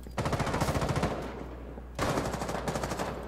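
Automatic hip-fire gunfire in a video game, two sustained rapid bursts, the first about a second and a half long and the second after a short gap, loud and close, with no talking.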